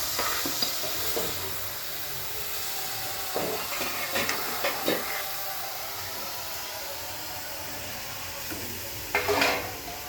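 Salted mixed vegetables frying in a pan for wedding-style fried rice: a continuous hissing sizzle broken by louder scraping bursts of stirring near the start, in the middle and again near the end, with no voices.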